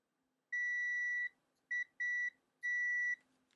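A ZOYI ZT-701 oscilloscope multimeter in continuity mode gives four clean electronic beeps: a long tone, two short ones close together, then another long one. Each beep is loud and clear over a quiet background with no talk.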